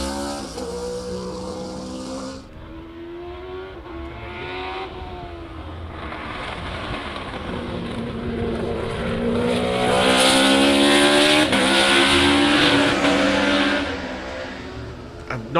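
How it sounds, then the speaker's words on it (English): A Formula One car races around a circuit, its high-pitched engine screaming through rising and falling gear changes, swelling louder as it passes close and then fading into the distance. "There's an F1 car on track."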